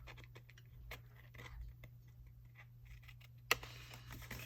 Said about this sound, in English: I also like to take my scissors and I'm going to chip off